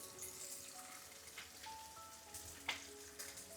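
Curry leaves sizzle faintly in hot oil alongside drumsticks and okra for sambar rice, a soft steady crackle with small pops and brief spits rising above a quiet background.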